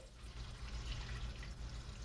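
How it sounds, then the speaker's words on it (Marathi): Water is poured over drumsticks in a pan: a short, faint, continuous splashing hiss. "आणि आता ह्याच्यावर आपल्याला पाणी टाकायचं आहे."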